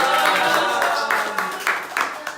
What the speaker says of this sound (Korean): 힘찬 박수로 북토크 마치겠습니다